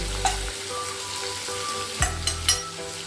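Cumin, chilli, turmeric and coriander sizzle loudly in hot oil for a banana-flower mochar ghonto with prawns, a dense continuous fry broken by a few sharp stirring scrapes.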